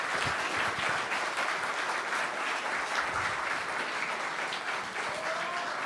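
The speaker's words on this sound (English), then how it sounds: "please join me in applauding our speakers." An audience at a live political debate applauds the speakers: sustained, loud, full-room clapping that stays constant and carries no voices.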